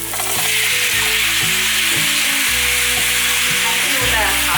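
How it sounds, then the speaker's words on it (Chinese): Hakka taro abacus beads stir-fried in a wok with pressed tofu, pork ribs and baby corn, giving a loud, continuous close sizzle with steady stirring throughout and no talk. "快速的炒一炒"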